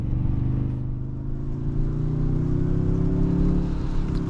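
2023 Toyota Tundra 1794 pickup accelerating on a rainy drive, a deep steady engine drone with rising harmonics heard from inside the cab, continuous and fairly loud.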